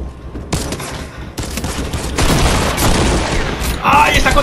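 Rapid gunfire bursts and booms from a Fortnite match with a Wild West cowboy theme, loud and dense, firing in clusters throughout.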